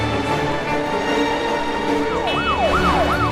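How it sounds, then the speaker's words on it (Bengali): Police car sirens wail in a rising and falling pattern through a busy night-time city, the repeated swoops emerging over a dense, steady background of traffic and street noise. "এত পুলিশের গাড়ি কোথায় যাচ্ছে বুঝতে পারছি না।"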